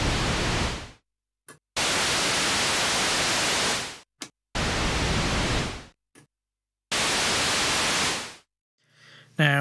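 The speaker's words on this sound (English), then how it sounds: "the pink noise sounds rather darker" Pink noise from the noise generator of an ARP Odyssey synthesizer, a dark, steady hiss played in four separate bursts of about two seconds each, with short silences between them and a brief tone at the end.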